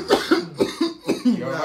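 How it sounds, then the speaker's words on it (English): Someone coughs in a rapid run of about six harsh, close coughs, loud and alone with no speech between them. "I'm really coughing."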